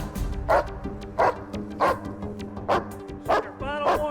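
Police canine dogs bark in a steady, loud series of about seven sharp barks at regular intervals, close by and alone, with no talking over them.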